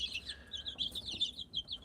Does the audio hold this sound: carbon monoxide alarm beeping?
no